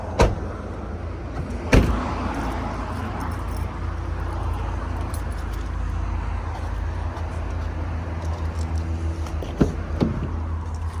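A 2005 Dodge Ram 4x4 pickup engine on a cold start settles into a steady, loud, low idle rumble, with a few sharp mechanical clicks near the start and end.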